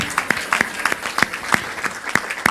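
A church congregation claps for the Lord in a steady, rhythmic beat of evenly spaced sharp claps, loud and close, with faint voices behind.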